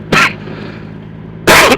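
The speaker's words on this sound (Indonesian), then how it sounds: "Aduh, ini batuk nih ganggu," Two sharp, loud coughs close to the listener, separated by a brief quiet pause.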